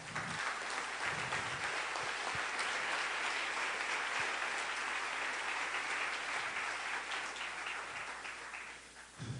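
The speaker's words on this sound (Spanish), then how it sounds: "denle un aplauso al Rey" A church congregation applauding during a Sunday service, a broad sustained burst of clapping from many hands that stays even and tapers off at the end, with little talk.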